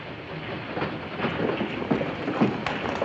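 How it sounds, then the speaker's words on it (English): A passenger train runs on the rails with a steady rumbling roll and irregular clanks and rattles from the cars, continuous and moderately loud with no talk. "Everybody on the train, all passengers aboard, please."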